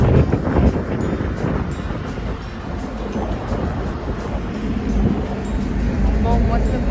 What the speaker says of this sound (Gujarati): બહુ મસ્ત પવન છે, ઠંડો ઠંડો.